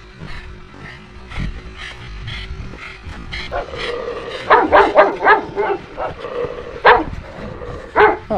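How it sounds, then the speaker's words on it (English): Several dogs bark and yip in sharp bursts near a road, some whimpering between loud barks, with a few faint voices in the background. "I want to say hello to these doggies"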